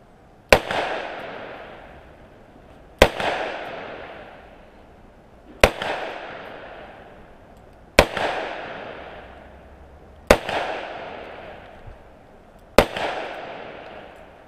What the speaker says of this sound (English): So those got a little bit of a pop to them, but it's nowhere even close to a 357 Magnum on the same size gun.